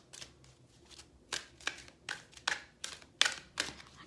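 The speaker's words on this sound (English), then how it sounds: "So right now I'm going to shuffle the Romance Angel cards" Romance Angel oracle cards are shuffled close by, soft riffling swishes and papery flutters in short irregular bursts, quiet and alone with no speech.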